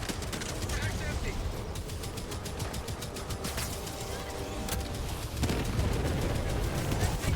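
Rapid bursts of automatic video game gunfire crackle almost continuously, dense and loud, with a player talking over the shooting.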